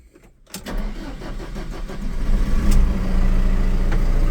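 A Linde H80D-03 diesel forklift with a 4.1-litre Perkins engine cranks and catches, then settles into a steady, rumbling idle that grows slightly louder, close by with no talking.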